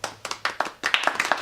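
A small audience at a maqam music class claps for a singer, sparse separate hand claps at first that thicken into quicker, overlapping clapping from a few people nearby.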